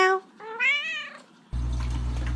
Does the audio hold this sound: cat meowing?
yes